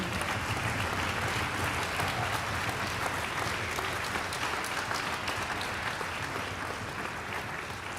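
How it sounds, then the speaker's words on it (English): Audience applause at a string school orchestra concert, a steady, even wash of many hands clapping that holds for the whole stretch and tapers only slightly at the end, with no talking. "let's give her a round of applause"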